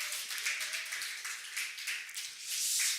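A church congregation claps in encouragement, a soft, fairly distant patter of many hands that holds steady for a few seconds and swells slightly near the end.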